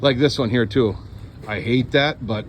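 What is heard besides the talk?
None of the usual background noises is heard.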